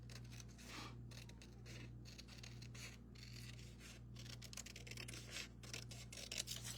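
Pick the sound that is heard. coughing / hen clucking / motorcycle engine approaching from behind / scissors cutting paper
scissors cutting paper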